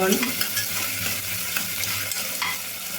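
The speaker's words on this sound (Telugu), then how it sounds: "ఉల్లిపాయ అనేది లైట్గా గోల్డెన్ బ్రౌన్ కలర్గా అయితే రావాలండి. అప్పటిదాకా వేయించుకోవాలి." Sliced onions with green chillies and fennel seeds sizzle in hot oil in a pan for mushroom biryani, a steady close crackling hiss with occasional stirring scrapes and no talking.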